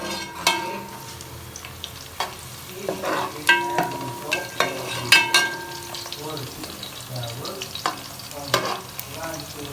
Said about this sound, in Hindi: प्याज को अच्छे से ब्राउन करना है।